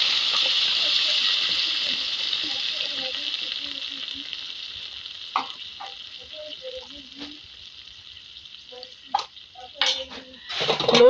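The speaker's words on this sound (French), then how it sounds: "je rajoute un peu d'eau" Water poured into a spiced chili purée that sizzles steadily in a hot pan, a broad hiss running throughout with a few soft clinks and stirring knocks toward the end, no talk.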